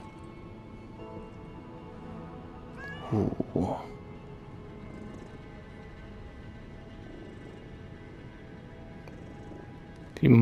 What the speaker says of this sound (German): Katze!